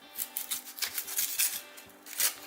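A knife cuts an onion in half, close crisp crunching and slicing bursts that come in quick uneven strokes over a few seconds.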